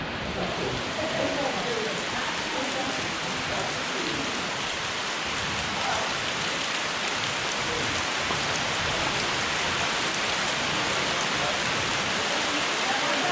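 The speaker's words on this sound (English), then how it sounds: "Listen to it pour, man." Heavy rain pours steadily in the Amazon rainforest in a dense, continuous hiss, close and loud throughout with no pauses.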